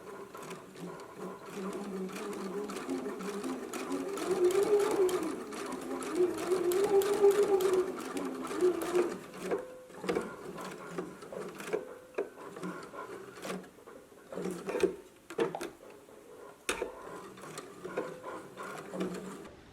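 A sewing machine stitches a narrow hem, a close, steady mechanical whir that runs continuously at first and then breaks into short bursts with pauses and small handling clicks.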